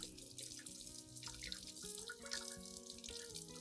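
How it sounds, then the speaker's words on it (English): Clean tap water runs steadily from a faucet over an aloe vera plant, a continuous splashing stream with light dripping and no voices. "Finally, rinse the entire plant thoroughly with clean water."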